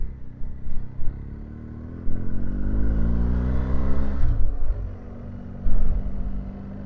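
A BMW motorcycle engine running on its first ride out after a service, a steady close rumble that rises and swells in revs midway before settling, with a couple of sharp clunks.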